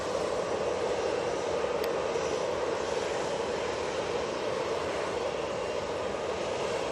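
A Ryanair Boeing 737-800 with split scimitar winglets, bound from Manchester for Dubrovnik, gives off a steady, moderately distant engine drone that holds without much change.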